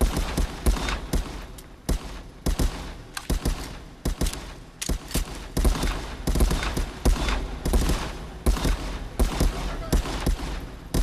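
Rapid gunfire in the VR shooter Contractors, with many sharp shots in irregular bursts throughout, loud and close.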